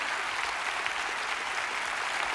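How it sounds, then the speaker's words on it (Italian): A theatre audience applauds an orchestra at a live stage show, with dense, even clapping filling the whole stretch and no voices on top. "un applauso a questa orchestra spettacolare, al maestro Mazzocchetti"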